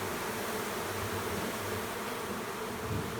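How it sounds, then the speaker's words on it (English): Honey bees hum in a dense, continuous buzz at a beekeeping yard in August during heavy robbing, a steady faint drone with no voices over it. "you can see we brought a lot of bees in"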